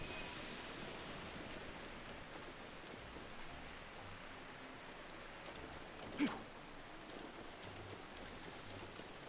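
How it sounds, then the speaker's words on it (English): Rain falls steadily on a town in Zelda: Breath of the Wild, a soft, even hiss of drops with a single brief tap partway through, heard alone at low volume. "It's because it's raining."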